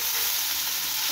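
Spinach fries in a wok with a dense, steady sizzle, loud and close, with stirring mixed in and no voices.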